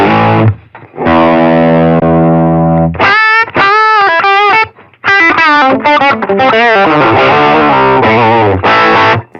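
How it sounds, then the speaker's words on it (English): Guitar through a distortion drive effect on an HX Stomp: loud, saturated sustained chords give way to choppy, rhythmic distorted riffs with short gaps, close and dominant throughout. "go to distortion."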